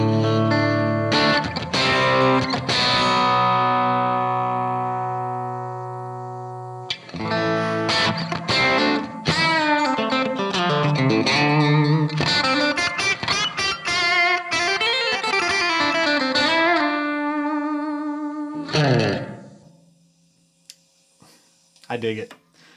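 An electric guitar on its bridge pickup plays through an AC30-style amp model with a little drive and reverb: ringing chords that decay, then faster strummed and picked passages, ending in a fading tail.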